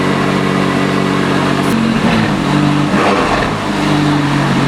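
A McLaren 570 sports car rated at 562 horsepower, its engine loud and close, holding a steady throbbing drone whose pitch rises and dips as it revs, with no talking.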